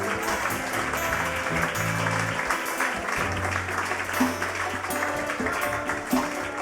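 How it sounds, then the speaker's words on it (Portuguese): A church congregation applauds during a worship service, giving a continuous moderate wash of clapping that blends with sustained musical tones and low voices. "Aplaudam o Senhor."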